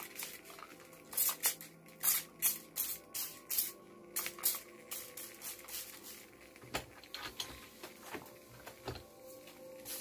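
Lavender mist sprayed from a pump bottle in a quiet room: a rapid run of about a dozen short, hissing spritzes close by, then sparser faint sprays and light handling noises.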